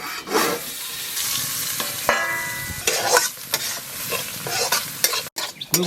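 Greens with potato frying and being stirred in a pan over a home cooking fire, a steady close sizzle with scraping stir strokes and brief clatter, no talk.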